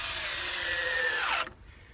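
A power drill drives a screw into wood with a close, high whine that drops in pitch as the screw seats, then stops abruptly, leaving quiet room tone.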